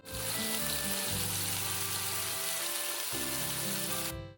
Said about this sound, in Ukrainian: Гаряча петельня, олія і вкидаємо курочку.